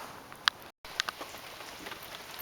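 Rain falling steadily outside a house under construction, a faint continuous patter with a few sharper drops close by, quiet throughout.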